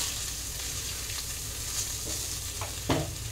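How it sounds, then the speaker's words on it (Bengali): Ground cumin and turmeric frying in a pan as they are stirred, a dense continuous sizzle with a couple of soft scraping strokes near the end, close up and without voices. "সবগুলো একটু নাড়াচাড়া দিয়ে নেব।"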